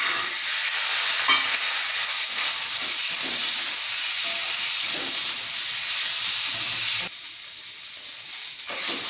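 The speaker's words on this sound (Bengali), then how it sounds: "এরপর আমি এই ছোলাগুলো এর মধ্যে দিয়ে দেব" Chickpeas sizzle and hiss as they are stirred into spiced potatoes frying in a pan, a steady close sizzle that drops away near the end.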